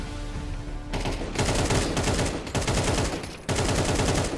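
Rapid gunfire in Counter-Strike 2, loud dense bursts of automatic shots in several sustained strings with brief gaps, filling the whole stretch without talk.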